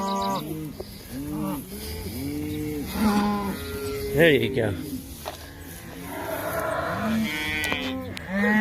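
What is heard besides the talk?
cows mooing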